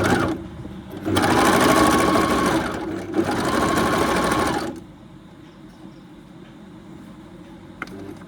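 A sewing machine stitches the edges of a pillow cover in two close, rapid bursts of a few seconds each, separated by a brief pause, then falls to a quiet room hush.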